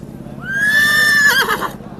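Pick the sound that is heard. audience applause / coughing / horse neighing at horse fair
horse neighing at horse fair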